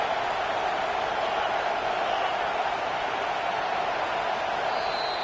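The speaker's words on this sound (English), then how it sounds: "Here comes this home crowd as the defense tries to get off the field on 3rd down." Home crowd at a Texas vs Florida football game roars steadily on a third down, a constant, even wash of distant cheering and noise with no talk over it.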